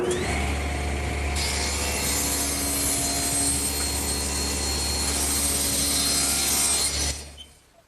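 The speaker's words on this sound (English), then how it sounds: "And I'll do that at the table saw." A table saw rips through a wooden board in a woodworking shop, a loud, steady whining cut that holds for about seven seconds before the blade spins down, with no talking.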